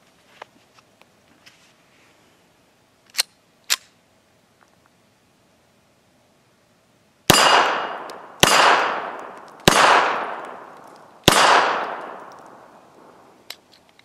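A firearm fires four loud, sharp shots at a shooting range, coming in quick succession with ringing decays, after a couple of faint mechanical clicks in otherwise quiet surroundings.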